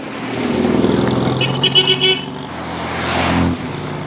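A classic car on a road during a marathon rally, its engine droning close by and rising as it accelerates, with a short horn-like toot partway through and the engine swelling again near the end.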